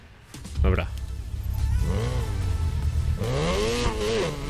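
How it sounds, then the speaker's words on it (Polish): A tuned car engine in Need for Speed Payback revs up and down repeatedly, a rising and falling whine over a low rumble, with a voice speaking over it at times. "posłuchajmy jak brzmi ten samochód"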